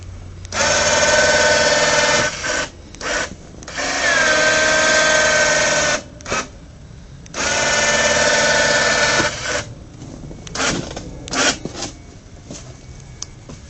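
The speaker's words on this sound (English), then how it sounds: "winch works, plow works" Winch motor on a Yamaha Wolverine ATV runs in several loud, close bursts of steady whirring whine, each a second or more long, separated by short pauses and brief clicks.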